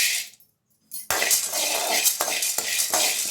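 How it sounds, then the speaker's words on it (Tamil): Dry pan stirring: a spoon scrapes and rattles against a metal kadai while roasting gram dal, with grains shifting continuously after a brief quiet start. "இதையும் நல்லா செவக்க வறுத்துக்கோங்க"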